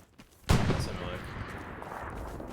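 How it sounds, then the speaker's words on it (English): A gunshot rings out in the World War II shooter Hell Let Loose at night near a light tank, a single loud sharp report followed by a long rolling echo that fades slowly across the field. "I hear a gun."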